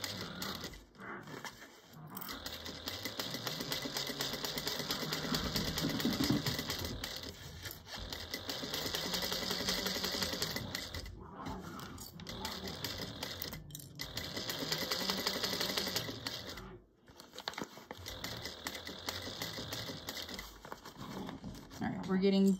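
A sewing machine stitches a quarter-inch seam on a pouch, running in long steady bursts broken by brief stops, with a voice talking over it.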